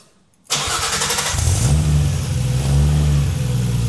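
GT-R six-cylinder engine fitted in a Datsun 240Z cranks and fires up after a short silence, revs briefly, then settles into a loud, smooth, steady idle close by.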